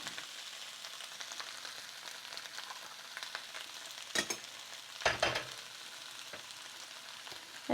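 Vegetable korma simmers in coconut milk in a pan, a soft steady sizzle broken by a couple of brief louder stirring scrapes, with no talking.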